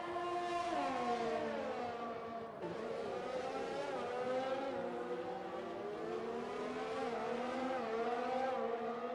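Formula 1 cars from the F1 2020 video game race through Suzuka's Degner corners, giving a loud continuous high-revving engine howl with pitch sweeps as gears shift and the car brakes and accelerates.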